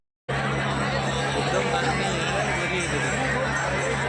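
Pilgrims crowded at the Mahakumbh in Prayagraj make a steady, loud murmur of babble that starts abruptly and continues unbroken.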